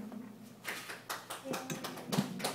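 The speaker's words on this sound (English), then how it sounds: "Thank you for the charity clapping" A small audience gives sparse, uneven sympathy clapping, a few separate hand claps spread irregularly over a couple of seconds, fairly quiet.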